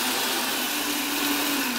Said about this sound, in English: We have my lovely blender, which I promise I know how to use.